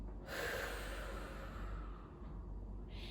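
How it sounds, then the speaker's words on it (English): A person exhales forcefully and steadily through the mouth during a tummy-tightening abdominal exercise, a long, breathy rush of air heard close up, with no talking. "breathing out,"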